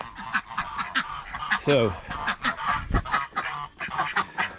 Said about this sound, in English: So the ducks haven't quite got it sussed of that's where their home is for the time being.